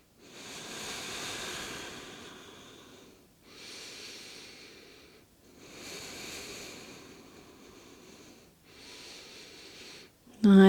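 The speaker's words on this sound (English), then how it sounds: "with that nice deep breathing here." Slow, deep breaths during a pregnancy pelvic tilt exercise, in four long, airy inhale-exhale cycles close to the microphone, with a louder noise at the very end.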